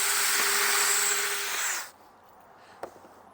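A power drill with a centering bit bores a pilot hole for a hinge screw, a steady whirring grind lasting under two seconds that then stops, followed by near quiet and one small click.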